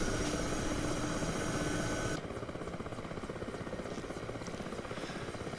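A helicopter in the DCS flight simulator powers up with a steady loud rotor and turbine roar, which drops to a lower, rhythmically chopping drone partway through as it lifts off and flies.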